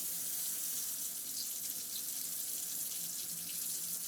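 Lukewarm tap water runs steadily into a kitchen sink, a continuous hiss and splash at even level throughout with no speech over it.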